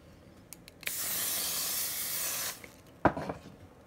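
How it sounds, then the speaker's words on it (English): A continuous hairspray aerosol hisses for nearly two seconds, followed by a few light rustling and handling sounds nearby. "I need to hairspray all of this down"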